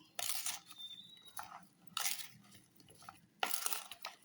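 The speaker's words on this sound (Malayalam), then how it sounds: "നമുക്ക് ഇപ്പോൾ ഉപ്പിട്ടിട്ട് നമുക്ക് ഇതൊന്ന് ഇളക്കി കൊടുക്കാം" A spoon stirs salted red gooseberry pickle in a bowl, making three separate bursts of scraping, clinking strokes with quiet pauses between them. Nobody speaks.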